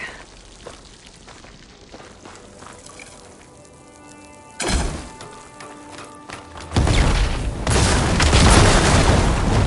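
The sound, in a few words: blaze barrels exploding after fire ammo hits, video game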